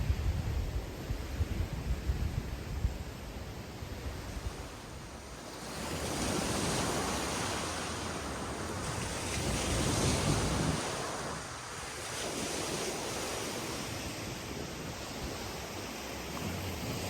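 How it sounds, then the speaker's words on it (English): Lake Michigan waves wash onto the shore of North Manitou Island in a constant rolling surf that swells and eases, with some wind noise against the microphone throughout. "I can hear the waves of Lake Michigan,"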